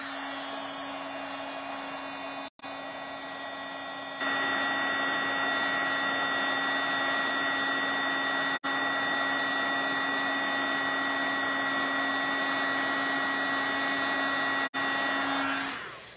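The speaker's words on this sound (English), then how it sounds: "I'm going to bring in my heat gun." A heat gun melting white embossing powder on an Easter card runs with a loud, steady blowing whine. It cuts out briefly a few times, then resumes at the same pitch.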